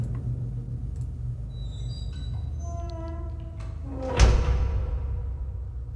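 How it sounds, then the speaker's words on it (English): Heavy doors swinging shut in the adventure game Riven, a single loud thud-like slam near the end after mechanical creaks and tonal clanks, set against a steady low ambient hum. "go back and close the doors"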